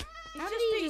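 A Minecraft cat gives a single rising-and-falling meow, close and clear, lasting under a second.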